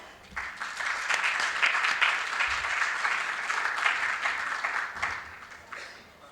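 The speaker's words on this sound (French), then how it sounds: "Donc, sous vos applaudissements," Sustained audience applause fills a closing ceremony of a youth forum, a dense, steady wash of many hands clapping at moderate distance that swells quickly and tapers off at the end.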